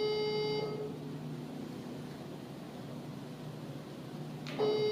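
A steady electronic ringback tone sounds through a phone, one long repeated ring then silence before another ring starts at the end, over faint background hiss.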